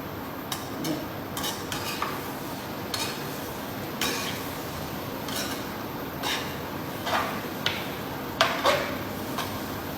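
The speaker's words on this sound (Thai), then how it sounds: "ใส่เส้นเลยแล้วก็ใส่ไข่ ผัดเส้นก่อน" A spatula scrapes and clinks against a wok on an electric stove while stir-frying pad thai noodles over a steady sizzling hiss, the metallic taps irregular and close.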